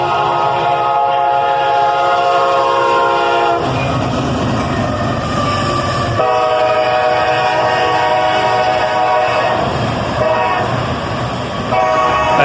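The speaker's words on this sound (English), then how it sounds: "SD70 Mac, followed by two BNSF locomotives, an ES44C4 and an SD70 Ace." A CSX freight train led by an SD70MAC, followed by two BNSF locomotives, an ES44C4 and an SD70ACE, thunders past close by, its horn blaring over a constant heavy rumble of engines and wheels.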